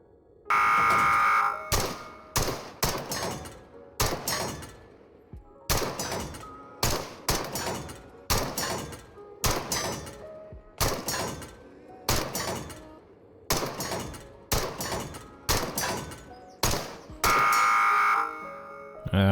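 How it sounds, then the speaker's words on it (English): Gunshots fired at pop-up targets on a gun range in the VR game Into The Radius crack out in a quick, irregular series of sharp, loud bursts separated by brief silences, each followed by a short ringing tail. "these little plinkers, they're going to pop up in random sequences and you've got to shoot them"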